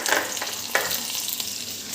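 Dried red chilies sizzle and crackle in hot sunflower oil in a pan, a bright close frying hiss with a sharp pop near the middle, no talking.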